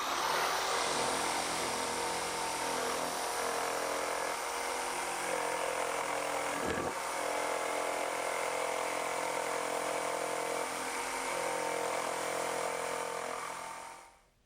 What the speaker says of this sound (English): now I will use my electric jigsaw